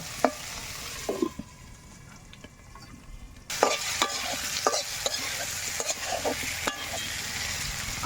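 Mango pieces sizzling and frying in a pan with turmeric, scattered clicks and spatters, a quieter covered stretch, then lively sizzling and stirring resumes.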